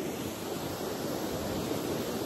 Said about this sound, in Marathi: साईडला बघा मस्त धबधबे वगैरे